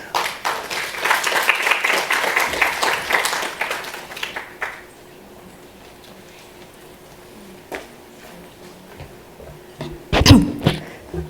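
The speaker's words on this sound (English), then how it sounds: "Let's give her a round of applause." An audience applauds after a presenter's talk on managing side effects during cancer treatment; a fairly loud wash of clapping fills the first four seconds, then fades to quiet room tone with a few stray claps and a bump near the end.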